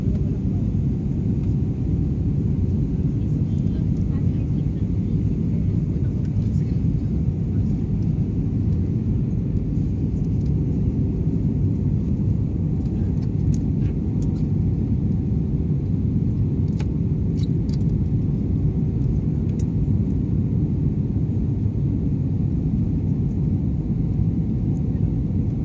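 Royal Air Philippines airliner cabin in flight: a loud, steady, continuous engine drone and airflow rumble that holds unchanged throughout, with no break and no talking.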